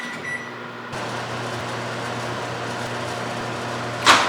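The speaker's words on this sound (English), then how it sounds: "you're gonna pop in the microwave for about a minute" A microwave oven hums steadily while heating chocolate with coconut oil, a constant low drone with a faint mechanical whir, ending in a brief bright beep near the end.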